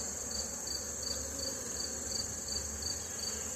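Honeybees on a hive frame during fall feeding, with young bees emerging, give off a steady low buzzing hum that stays constant and fairly quiet throughout with no talk.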